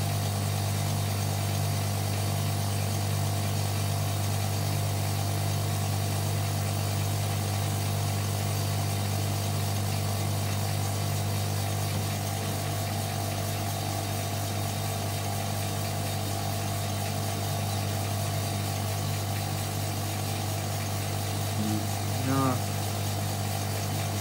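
A Hotpoint Supermatic De Luxe 9414W twin tub washing machine hums steadily and loudly as its motor strains and fails to spin, with a constant drone throughout and a brief rising whine near the end.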